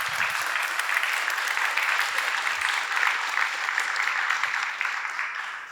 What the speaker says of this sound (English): Maybe first a round of applause.